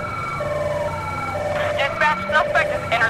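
An ambulance siren in the video game Grand Theft Auto V wails with rising and falling tones over a steady engine rumble, growing louder and choppier toward the end.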